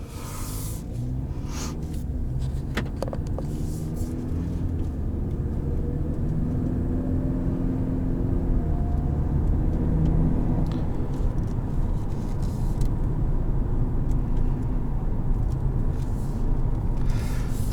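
A 2018 Lincoln MKZ driving in comfort mode, heard from inside the cabin as a steady low road and engine rumble with tire noise that holds even and unbroken for nearly eighteen seconds, with no talking.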